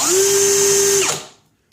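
A Milwaukee M18 FUEL ONE-KEY 2706-20 hammer drill spinning at high speed gives a loud, close, steady motor whine that holds for about a second, then drops in pitch and fades as it winds down.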